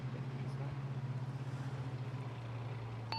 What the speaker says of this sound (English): the engine noise of the Bobcat's louder than you